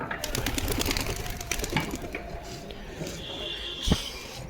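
Pigeons settle on a house rooftop amid construction and give soft cooing calls. The calls sit quietly beneath a person talking close by, with outdoor ambience around them.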